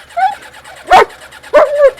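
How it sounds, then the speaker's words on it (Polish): A dog barks several times nearby, short sharp yips and barks spaced apart, loud and close outdoors in an orchard. "Dziu, nie szczekaj."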